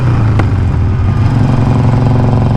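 Harley-Davidson Forty-Eight motorcycle fitted with a slip-on exhaust, idling with a steady low loping rumble up close, one brief sharp pop near the start.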